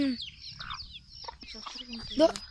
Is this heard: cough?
no